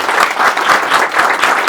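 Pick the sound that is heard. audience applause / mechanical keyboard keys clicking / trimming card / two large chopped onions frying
audience applause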